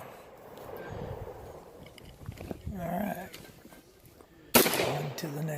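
A .308 Winchester rifle loaded with cast bullets and sixty-year-old powder goes off once near the end as a single sharp, loud report. Quiet outdoor background and faint talk come before it.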